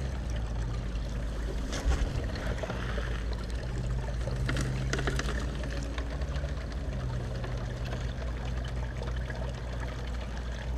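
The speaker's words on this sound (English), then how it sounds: "Using my Mad Mining recirculating sluice, modified with the old La Trappe." Water trickles and pours steadily through a Mad Mining recirculating sluice fitted with a La Trappe as a bucket of dirt from a gold claim at Coolgardie is run, with a continuous low pump hum underneath and occasional splashes.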